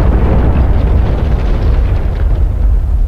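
BK90 cluster munitions from an AJS37 Viggen blasting a group of vehicles in DCS World, a loud, sustained, deep rumbling explosion that fills the whole moment with heavy low-end roar.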